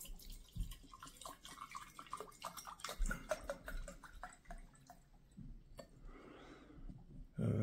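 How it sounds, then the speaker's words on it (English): Ethyl acetate poured into a separatory funnel in a chemistry lab, a soft trickling of liquid with scattered drips and small clinks of glassware, quiet and close. "The next step is to pour this into the separatory funnel, doing a bit at a time."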